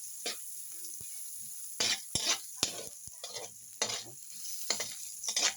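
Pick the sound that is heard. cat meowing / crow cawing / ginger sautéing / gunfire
ginger sautéing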